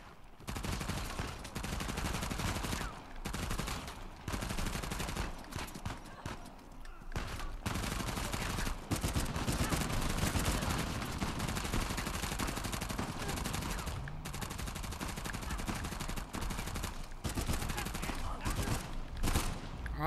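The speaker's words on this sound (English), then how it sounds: "I hate that fucking burst weapon" Dense, continuous gunfire from Uncharted: The Lost Legacy, with repeated short bursts from a burst-fire weapon mixed into a loud, layered firefight that runs without a break.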